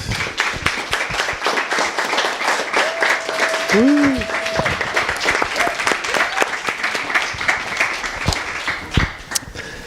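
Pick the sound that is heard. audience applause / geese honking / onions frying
audience applause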